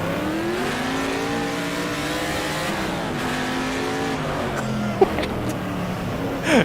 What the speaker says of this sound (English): Let's unleash the V8.